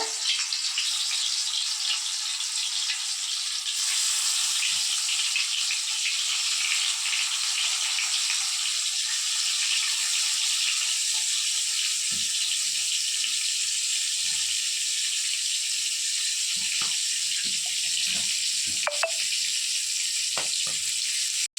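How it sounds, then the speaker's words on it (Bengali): Pangas fish pieces fry in hot oil in a wok, giving a steady, loud, continuous sizzle and hiss with occasional faint clicks and spatters throughout. "এই যে মাছগুলো আমি দিয়ে দিচ্ছি তেল হয়ে গিয়েছে"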